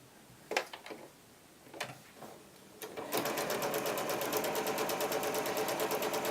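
A sewing machine chain piecing quilt pieces: a few separate clicks and thumps, then the motor kicks in with a fast, steady, continuous stitching chatter close by.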